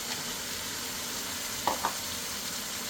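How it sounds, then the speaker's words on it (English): Ingredients for okra soup sizzle in a frying pan, a steady soft hiss of frying with two brief crackles near the middle, no talking. "Alright, look at that, that is frying well."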